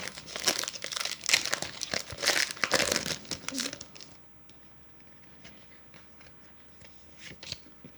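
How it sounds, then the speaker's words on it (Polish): A fourth Topps Match Attax Champions League 16/17 card packet is torn and its foil wrapper loudly crumpled and crinkled for about four seconds, then quieter scattered rustles and card handling follow. "Dobra, lecimy z czwartą saszetką."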